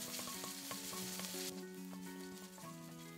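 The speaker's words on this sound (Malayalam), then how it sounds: "ഇനി ഈ ഉള്ളിയും പച്ചമുളകും ഒക്കെ നന്നായിട്ടൊന്ന് വേവുന്നതുവരെ ഇളക്കി വഴറ്റിയെടുക്കുക." Onions and green chillies sauté in a pan, stirred until soft for mint chutney, giving a loud, close, continuous sizzle with no voices.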